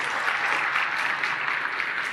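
A church congregation claps for the campers who stand during Sunday Mass, a steady, dense patter of many hands held evenly for about two seconds with no talk over it.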